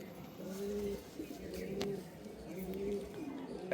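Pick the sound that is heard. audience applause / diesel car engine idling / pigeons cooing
pigeons cooing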